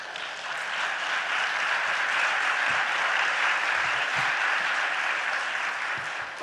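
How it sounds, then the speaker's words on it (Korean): A hall audience at a church presentation claps continuously, a thick, steady patter of many hands that holds at an even, moderate loudness for several seconds with no voices above it. "박수 안 해요?"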